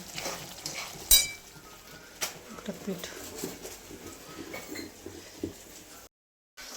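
Vegetables being fried and stirred in a pan in a home kitchen, with soft sizzling and scattered utensil scrapes and clinks, one sharper clatter near the start, moderately close.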